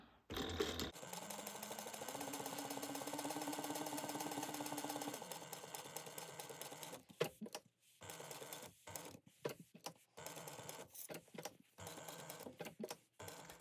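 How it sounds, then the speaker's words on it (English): A sewing machine runs steadily for several seconds while top-stitching around the outer edge of a laptop bag overlay at 1/8 inch, then stops, leaving scattered clicks and handling noises. "You're just going to sew around again on the outer edge of our overlay."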